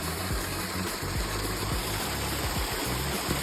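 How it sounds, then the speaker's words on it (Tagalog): Water overflows from a filled well and runs steadily nearby in a continuous rushing trickle with small splashing bubbles, with no voices over it. "Ito, tumagas na yung tubig kasi napupuno na siya."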